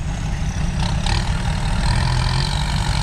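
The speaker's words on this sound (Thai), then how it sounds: "รถไถดันท้ายครับ ขึ้นแล้ว" A Kubota 54-horsepower tractor pushes a stuck pickup truck from behind through rainy-season mud, its engine droning steadily and loudly throughout with a heavy low rumble.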